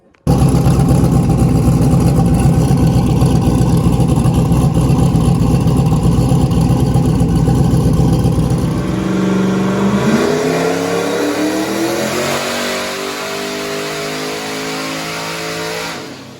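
A built 370 LS V8 with a fault runs loud and rough at a steady high idle, then the note drops and the engine revs back up with rising pitch before cutting off.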